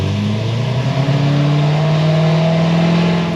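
A Corvette C7 Z06 with an upgraded cam and ported supercharger revs hard under acceleration, a loud, close engine roar rising steadily in pitch through an automatic upshift.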